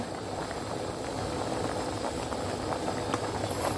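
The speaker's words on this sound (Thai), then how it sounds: "น้ำเดือดแล้วก็มันจะมีฟองขึ้นแบบนี้เนาะ" Steady bubbling and churning of water boiling in a pot, foaming up, a continuous dense rumble with fizzing texture, close and fairly loud, no voices.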